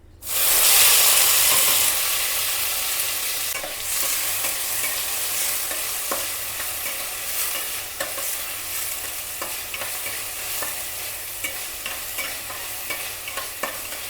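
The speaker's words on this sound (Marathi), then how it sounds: "मोहरी छान तडतडली आहे आता आपल्याला यामध्ये मिरची कांदा आणि टॅमॅटो सगळं टाकायचं आहे" Mustard seeds, chili, onion and tomato frying in a pan, a loud steady sizzle and hiss that bursts up at first and then settles into continuous crackling close by, with occasional stirring clicks and no voices.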